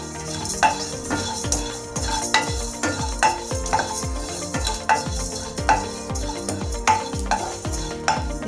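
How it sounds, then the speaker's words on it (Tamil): Chicken ghee roast sizzling in a pan while a spoon scrapes and stirs in a regular rhythm, the clanks of metal on the pan loud and close over a steady frying hiss. "இது ரொம்ப தீயாமல் வறுத்துக்கோங்க"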